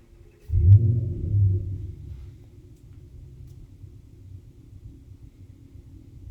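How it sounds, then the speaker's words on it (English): A car starting up outside gives a deep, muffled rumble that swells suddenly, fades after a couple of seconds and settles into a faint low idle, heard at a distance. "because the car is starting up outside"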